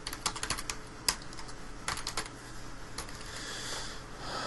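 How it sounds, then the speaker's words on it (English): Someone types on a computer keyboard, pressing the down arrow and enter keys, producing quick close clicks and taps in uneven bursts over a soft hiss. "So I've used the down arrow and then I pressed enter."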